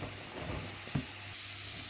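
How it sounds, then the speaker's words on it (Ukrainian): Gentle sizzling of onion and carrot frying in a pan, a soft steady crackle with a brief stirring scrape in the middle. "Цибулька прозора і навіть вже почала підсмажуватися."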